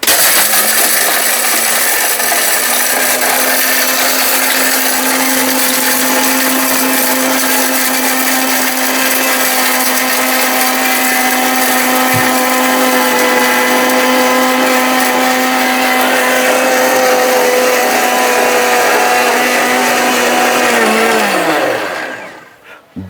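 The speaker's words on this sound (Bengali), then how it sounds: "বারোশো ওয়ার্ডের একটা ব্লেন্ডার" A Niyama 1200-watt blender with a 100% copper motor rated at 21,000 RPM runs with its glass jar, a loud, steady high-pitched motor whine and grinding rattle that holds evenly before winding down abruptly at the end.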